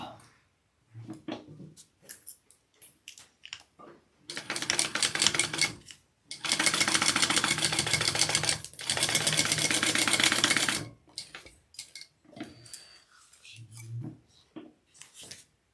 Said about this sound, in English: Pay attention to the seam allowance in your pattern, and we're going to sew this up.